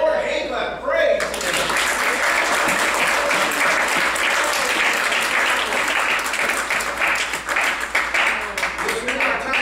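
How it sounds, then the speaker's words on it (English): A church congregation claps and applauds for the Lord in a loud, dense, sustained burst that starts abruptly after a brief spoken moment and carries on for several seconds. "If you know it, give the Lord a hand clap."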